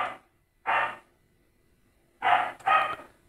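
Dogs barking at night: four sharp, mid-distance barks in two pairs separated by a pause, with quiet between them and no talking.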